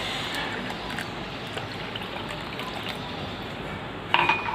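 Water being poured from a glass into rice flour in a kitchen while making a rice-flour breakfast batter, a steady continuous liquid wash with a brief clink of vessels near the end.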